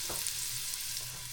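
Chopped onion fries in a pan for Tunisian couscous with octopus, giving a steady, close sizzle with faint stirring scrapes.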